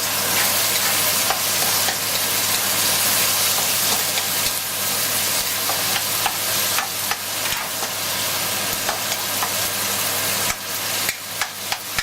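Baby onions sizzling and frying in a pot of stewed barracuda, a steady loud hiss with occasional stirring clicks throughout.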